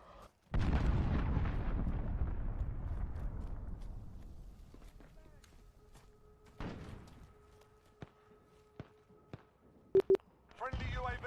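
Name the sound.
cruise missile explosions in Call of Duty Modern Warfare video game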